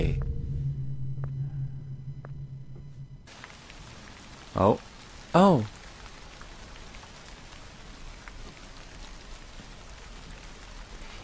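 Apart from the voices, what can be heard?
rain falling in the video game Tsugu No Hi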